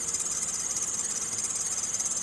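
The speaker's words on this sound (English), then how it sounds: "So the next sound we'll go over is squeals," A slipping drive belt on a running car engine gives off a continuous high-pitched squeal. A faint rhythmic pulsing runs through the squeal, and it is heard alone at moderate loudness.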